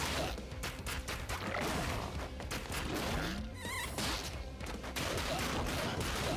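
Boss firing bouncing bullets in the fast action game ScourgeBringer, a dense barrage of sharp impacts, zaps and crashes layered over driving game music, loud and nearly continuous.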